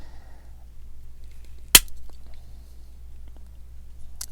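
Multitool pliers from a free Parker store set snap through a hard wire coat hanger in one sharp, loud click, followed by faint handling noises and a small tick near the end.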